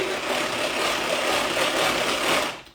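A food processor hums steadily at its lowest speed setting, mixing a cake-batter-like preparation for a peanut sauce with chicken, a dense even whir that cuts off at the end.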